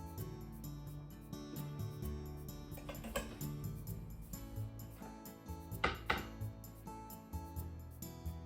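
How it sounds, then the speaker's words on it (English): A knife slicing a chocolate cake into eight pieces, giving scattered clinks and taps against a plate or board and two sharper cutting scrapes near the end, over a low ambient hum with no voices. "Let's cut it into 8 pieces."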